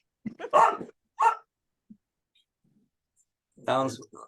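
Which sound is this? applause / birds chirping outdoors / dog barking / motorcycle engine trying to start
dog barking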